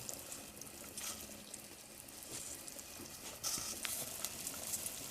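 Thai tom yum goong, a sour-spicy shrimp soup, returning to a boil in a pot, giving a steady sizzling, bubbling wash that grows slightly louder partway through, with no talking.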